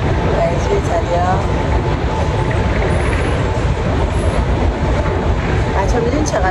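Subway metro train ride heard from inside the car, a loud steady rumble and rattle of wheels on rails with rushing air filling the whole stretch, while people talk over it.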